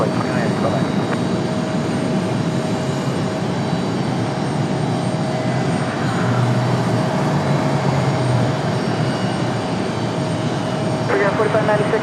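Airliner flight 2980 departing Raleigh Durham gives a continuous broadband engine rumble with a steady tonal hum, while radio voices come and go over it.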